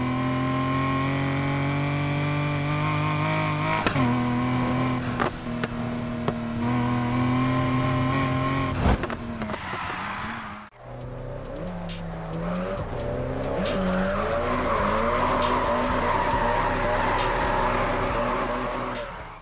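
Racing game cars roar with high revving engines, shifting pitch through gears, then a stretch of squealing, skidding tires over continuous engine drone, loud and sustained, with no voices.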